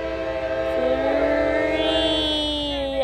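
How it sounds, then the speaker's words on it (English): A CSX intermodal freight train led by two engines passes in Folkston, Georgia, sounding a long, loud multi-note horn over a steady rail rumble, close by and alone. "2 engines. Intermodal train."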